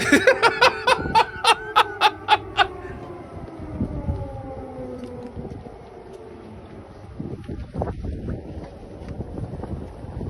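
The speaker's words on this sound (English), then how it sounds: "Can you hear those sirens?" Air raid sirens wail over Kyiv, a rising and falling tone carried through wind noise, with loud rhythmic pulses at the start before a long sustained drone fades and mixes with outdoor rumble.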